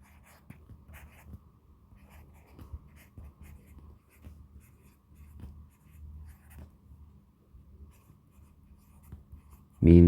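A marker or chalk writing notes on a board during a chemistry lesson, a quiet series of soft scratchy strokes and taps spread unevenly through a hushed room, ending with a sudden loud bump.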